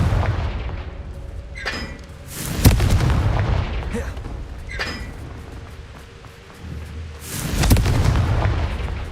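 Confringo blasting spells going off in the Hogwarts Legacy video game, several sharp booming explosions with crackling bursts spread across the clip, loud and close, with no talking.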